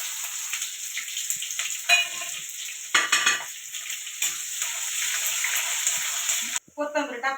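Onion fries in oil with mustard seeds, cumin and curry leaves for misal, making a bright, steady sizzle with occasional clinks and scrapes of a spoon before the sound abruptly changes near the end.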